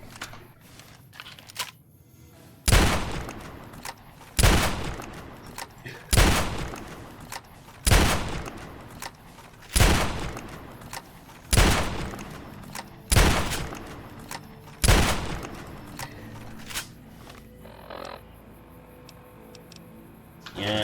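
Eight heavy, evenly spaced gunshots ring out from a weapon in the video game Fallout New Vegas, each a sharp loud blast with a decaying tail, spaced roughly two seconds apart.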